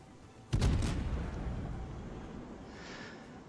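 A warship's main battery firing a salvo in World of Warships, heard as one sudden loud boom followed by a long rumbling decay that fades over a few seconds, with no voices.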